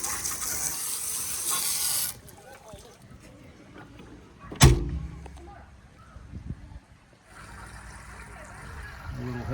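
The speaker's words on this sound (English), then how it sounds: "Now we can wash down our anchor." Washdown hose spraying water onto the anchor at the bow of a Beneteau Antares 11 boat, a steady broadband hiss that cuts off after two seconds, a sharp clunk midway, then spraying resumes near the end.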